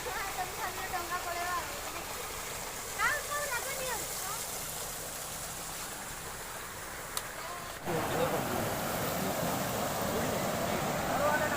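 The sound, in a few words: small waterfall at Jiranga/Khasada, Odisha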